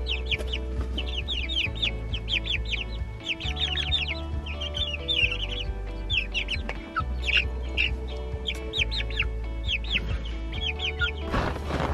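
Chickens cluck and chirp in quick, scattered bursts in Texas after freezing weather, with several birds calling close by over a low steady hum.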